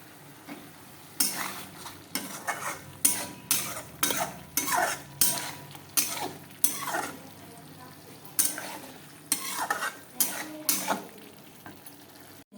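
Already-fried potatoes being stirred with spices in a pan, with a steady run of rhythmic spatula scrapes against the metal, roughly one stroke every half second, close by over a low frying hiss, with no talking.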